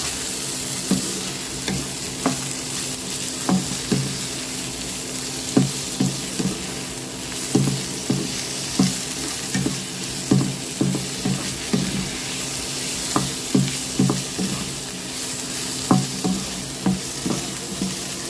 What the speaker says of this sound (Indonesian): Lalu diaduk-aduk dan tumis hingga irisan daging ayamnya ini agak kisut